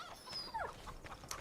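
A dog in the video game Farming Simulator 25 whimpers with a short rising whine and a few faint yips over a quiet background.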